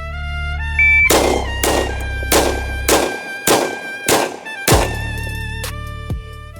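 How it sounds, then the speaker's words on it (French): Seven .45 ACP shots fired quickly from a 1911 pistol, each a sharp loud crack in an even rapid rhythm lasting about four seconds, with no one speaking. "j'ai tiré les 7 cartouches en 3 secondes 89"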